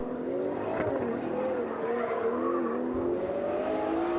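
A Ferrari 812 Competizione brakes hard on the Fiorano track, its V12 note falling in pitch with a faint tire squeal, heard steadily at moderate distance without talk.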